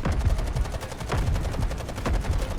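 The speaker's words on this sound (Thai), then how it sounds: "ยิงอัดเข้าไปหนึ่งลูก" Rapid automatic gunfire from the shooter game Delta Force: Hawk Ops rattles in quick bursts, dense and loud throughout with no pauses.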